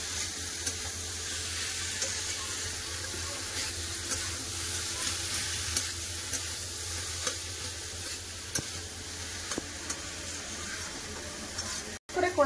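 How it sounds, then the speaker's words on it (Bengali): Boiled cabbage stir-fried with spice paste in a karahi, a soft steady sizzle with faint scraping stirs throughout, moderately quiet, with a brief louder clatter at the very end. "আবার সিদ্ধ করে রাখা বাঁধাকপি দিয়ে দেবো। মশলার সাথে বাঁধাকপি ভালো করে কষে নেবো।"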